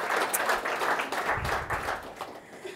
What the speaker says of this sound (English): So quick round of applause for Sarah and Craig for the fantastic job th